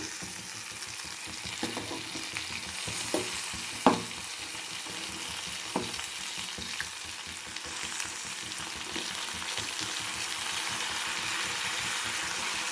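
Spice paste frying in an eggplant curry in a pan, a steady close sizzle with occasional soft clinks and stirring knocks running throughout.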